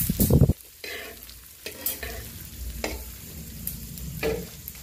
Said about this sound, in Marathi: चांगला फ्राय करून घ्यायचं आहे